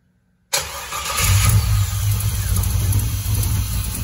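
A Chevrolet Monza, freshly rewired, cranks briefly after a half second of silence and catches, settling into a loud, steady running engine at close range with no talk.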